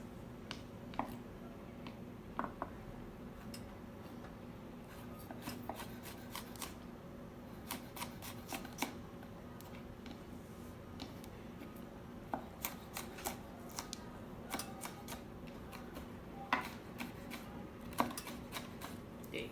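A knife chops fresh pineapple on a cutting board, giving faint, irregular soft taps and thuds scattered over a quiet room background.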